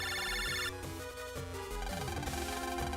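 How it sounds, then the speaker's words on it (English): A chiptune phone ringtone from the video game Mega Man Battle Network 3, a bright, repeating electronic melody that plays over the game's music. It is loud and continuous and there is no talking. "Len, a phone call."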